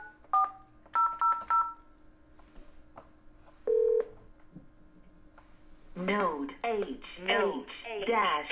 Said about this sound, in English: So I'm gonna dial into that hotline extension